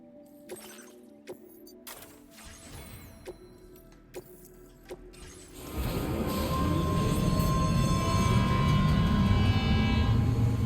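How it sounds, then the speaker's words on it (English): A monorail in the video game Death Stranding 2 starts moving after a few quiet mechanical clicks and taps, then settles into a loud, steady rolling rumble with a faint high whine over it. "monorail."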